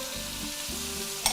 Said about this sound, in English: We're going to cook this until the vegetables begin to soften